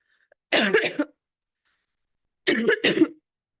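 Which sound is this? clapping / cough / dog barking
cough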